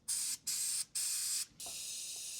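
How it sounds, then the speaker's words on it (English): Three short hissing bursts of an aerosol can spraying penetrating oil onto a truck's exhaust rubbers, then a longer steady spray, close and sharp with brief pauses between. "we're going to spray some penetrating oil on the rubbers"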